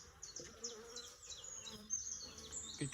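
Bees buzz and drone around an attic hive at close range, a soft, continuous hum with individual insects darting past.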